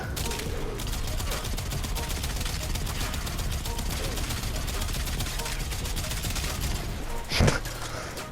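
Kuva Quartakk rifle in Warframe firing in steady bursts, a continuous rattle of rapid shots throughout, closing with a louder sharp blast near the end.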